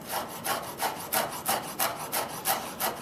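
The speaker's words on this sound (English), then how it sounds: "Just going to give these hot peppers a chop here." A knife chops hot peppers into thin slices on a wooden board, about ten crisp evenly spaced strokes in steady rhythm, close and fairly loud with no talk.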